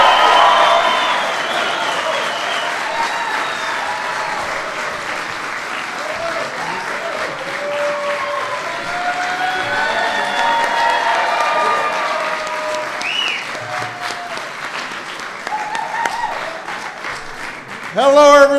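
A large crowd at a White House St. Patrick's Day reception applauds and cheers at length, a dense, loud wash of clapping with scattered whoops and voices, ending with a louder burst.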